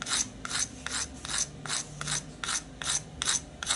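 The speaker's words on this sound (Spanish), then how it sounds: "vamos a colocar nuestro afilador formando un ángulo aproximadamente de 15 grados con respecto al compás" Rhythmic rasping strokes of a sandpaper sharpener filing a compass lead at about 15 degrees, about eleven short scrapes in a steady back-and-forth pattern, close and fairly quiet with no talking.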